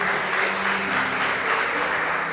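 A church congregation applauds during a bishop's sermon, loud and close, a continuous dense roar of clapping with a steady low hum of voices or music underneath.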